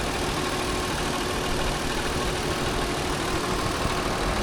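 A 2018 Lexus RX 350 with its 3.5-liter 2GR V6 idles close by, giving a steady, even drone that runs unbroken and alone throughout.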